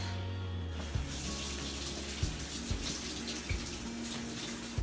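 A spoon rinsed under a running faucet in a sink, a steady wash of water broken by a few soft clinks and taps.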